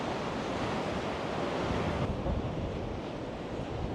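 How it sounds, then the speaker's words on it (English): Atlantic ocean waves roll in below the rocky sea arches known as the fairy bridges on Ireland's Wild Atlantic Way, a loud, steady wash of surf with wind buffeting the microphone throughout and no voices. "down there you can see the waves coming in"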